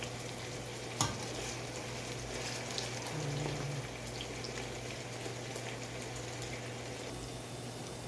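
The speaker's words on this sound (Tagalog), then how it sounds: "nagigisa na ako ng sibuyas" Onions sautéing in oil in a pan for pancit, giving a soft, steady sizzle throughout with a single sharp utensil knock near the start, close and fairly quiet, no talking.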